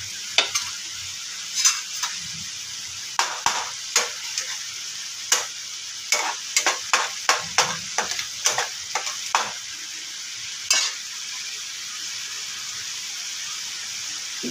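A spoon repeatedly scrapes and knocks through Maggi masala frying in a pan, a dozen or so sharp irregular clicks over a steady soft sizzle, close by and without voices.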